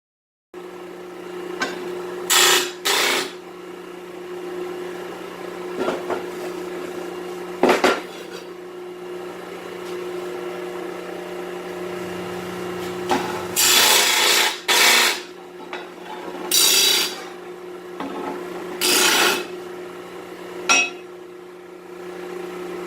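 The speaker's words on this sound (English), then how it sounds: "So let's get started with this deburring." Hand deburring of 5/16 steel studs for a Jeep track project in a metal shop: repeated short scraping and filing strokes in separate bursts over a steady low hum, no talking.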